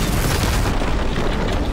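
A heavy, rumbling boom fills the whole stretch, dense and loud, like sustained cannon fire with no pauses, from a cannon in the video game Horizon Forbidden West.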